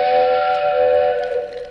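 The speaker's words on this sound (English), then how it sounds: "Then, they heard a whistle." A loud, sustained steam train whistle sounds for almost two seconds, a steady harmonic tone with a breathy hiss that fades slightly toward the end.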